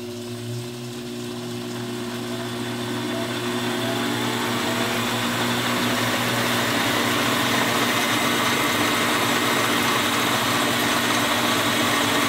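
An Atlas-Craftsman 12 inch metal lathe driven by a treadmill motor spins up steadily, its close, even mechanical whine and hum growing louder and then holding constant, with no talk.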